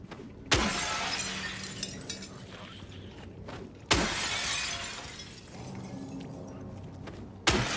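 Breakable objects are smashed in the video game Silent Hill 2 Remake: three sharp, loud shattering crashes land several seconds apart, each followed by tinkling debris and a lingering rumbling background.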